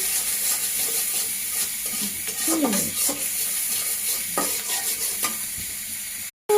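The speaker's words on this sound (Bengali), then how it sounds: "ডিম যাতে শক্ত না থাকে এভাবে নাড়তে হবে" Fish roe stirred in a frying pan with green chillies, a continuous soft sizzle broken by repeated scraping strokes of the spatula, ending in a brief cutoff.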